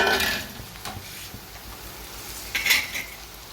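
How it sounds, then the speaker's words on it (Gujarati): Tomatoes going into a hot pan, with sizzling and stirring: a soft frying hiss runs underneath, broken by a few close spoon-and-pan clatters at the start and again near the end, with no talking. "થોડા ટામેટા નાખી દઈએ આપણે"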